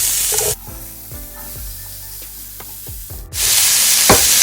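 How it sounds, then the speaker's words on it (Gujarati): Vegetables seasoned with rosemary, salt, pepper and chili flakes sautéing in a pan, a loud sizzle that drops away into quieter scraping and tapping of a utensil before surging back. "હવે આપણે આને પણ સોતે કરી લઈશું."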